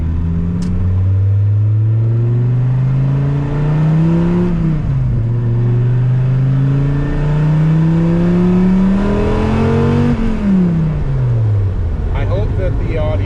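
A 1996 Dodge Viper GTS engine revs hard and loud up to high RPM, its deep droning tone climbing, dipping briefly at a shift, then climbing again before falling away near the end.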